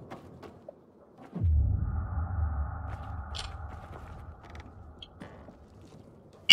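A door creaks open in the video game Dying Light 2, a low grinding rumble with a drawn-out creaking squeal, then a faint mechanical clunk near the end.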